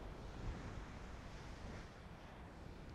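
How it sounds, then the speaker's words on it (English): Ocean surf at Laguna Beach, California makes a steady broadband wash with wind rumble, a continuous roar with no talking. "connecting with this wonderful ocean behind us here in Laguna Beach, California"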